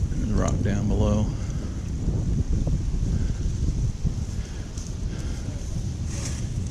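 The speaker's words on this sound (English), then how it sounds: "Got some wind over us right now" Steady outdoor wind blows on a rocky overlook near Jackson Falls, a continuous close roar buffeting the microphone, with a person talking briefly at the start.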